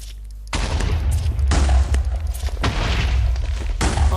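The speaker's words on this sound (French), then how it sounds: "on a le lance-grenade." A grenade launcher firing in a paintball video game mod: after a brief quiet start, loud booming blasts follow one another in quick succession, dense and explosive, with no talk over them.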